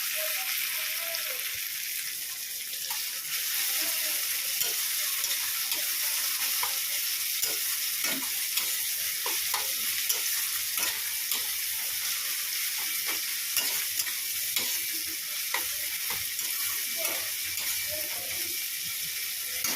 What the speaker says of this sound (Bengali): তেলে গোটা গরম মশলা তেজপাতা ফোড়ন দিয়ে পেঁয়াজটা লাল লাল করে ভেজে নিচ্ছি